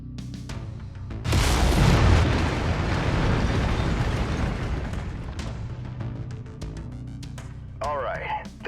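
Mech lasers firing in the MechWarrior 5: Mercenaries PC game, a loud sustained blast of energy fire with booming impacts that tails off into scattered pops and bursts.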